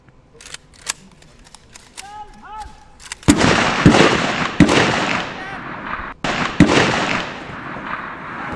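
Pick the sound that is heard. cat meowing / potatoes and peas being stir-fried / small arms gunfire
small arms gunfire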